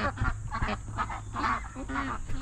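Noisy farm geese or ducks honk and call over one another in a dense, continuous chorus. The sound is close and loud, with no talking.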